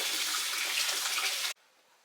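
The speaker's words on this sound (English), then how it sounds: "I am pouring cold water on top of the eggs" Cold water gushes from a tap onto boiled eggs in a steady, close rush for about a second and a half, then cuts off abruptly.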